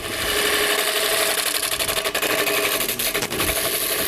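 A disc sander grinds the bevel of a metal scraper to sharpen it, giving a steady, loud, close whirring hum with a bright grinding hiss that dips briefly a few times as the tool touches the disc.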